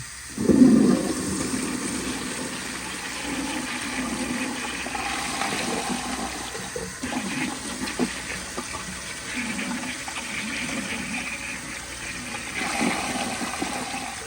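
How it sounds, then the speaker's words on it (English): A 2001 Kohler Tyrrell service sink, leaking underneath, flushes with a loud initial whoosh of rushing water, then settles into a long steady gurgling refill and drain, swelling again briefly near the end. "So for this flush, I'm going to flush it twice just to see how it does."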